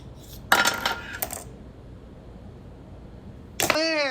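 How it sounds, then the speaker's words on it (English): Scissors cut open a plastic package of smoked paprika in a home kitchen, making a second of close, crinkly snipping. A quiet pause follows, then a brief, sharper rustle. "let's try to open it with a pair of scissors"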